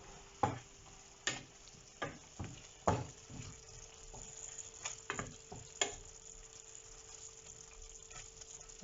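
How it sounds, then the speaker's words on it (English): A spoon stirs steak curry in a pan: a string of sharp scrapes and clacks against the metal rings out over a faint, steady sizzle, the strokes coming at uneven intervals. "I'm going to stir it up for a while"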